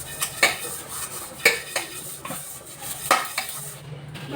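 Dishes are being washed at a kitchen sink: tea and breakfast utensils and a wok clatter and clink in separate bursts. Metal and ceramic pieces knock together close by, over a low running background.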